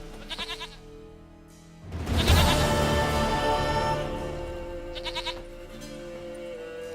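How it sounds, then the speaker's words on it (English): Goat bleats from The Witcher 3 game: a short quavering bleat at the start and another around the five-second mark, set against a louder swell of ambient game sound and music. "Goat of mine, dearest, sweetest goat."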